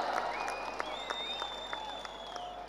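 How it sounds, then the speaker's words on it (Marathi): A crowd at an outdoor Dahi Handi festival applauds in a brief burst of clapping, somewhat distant and moderately quiet, with a faint whistle-like tone drifting over the crowd noise. "टाळ्या वाजून सर्वांनी याचं स्वागत करा"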